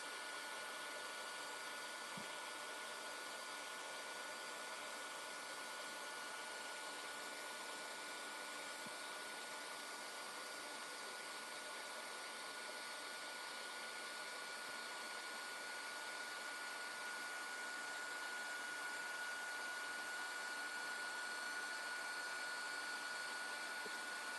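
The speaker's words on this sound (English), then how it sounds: "so I do have my heat tool handy" A heat tool blows steadily to set embossing powder, giving a continuous, even, fan-like whoosh and hum that holds at the same level throughout with no talking.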